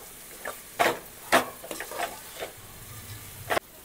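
Onion being fried in oil for pulao, a spoon stirring and scraping the pan in several distinct strokes over a low, steady sizzle, close by and with no talking.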